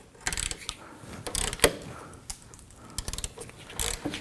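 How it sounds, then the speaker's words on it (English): A ratchet loosening a rusty shock absorber bolt on a Nissan Murano clicks in short bursts of rapid metallic ticks, with pauses between strokes, close by and fairly quiet. "ratchet, and I want to go ahead and start to loosen this a little bit."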